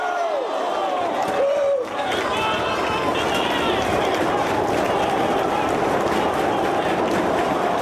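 A wrestling crowd at a CM Punk versus Samoa Joe match roars and cheers continuously, with applause and shouts blending into a loud, sustained wall of noise throughout.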